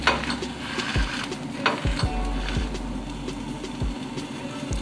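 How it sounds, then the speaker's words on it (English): A savoury pancake sizzles in a pan as it is turned, soft sizzling broken by several sharp spatula taps and scrapes against the pan. "So I'm going to turn other side so it cook both sides equally."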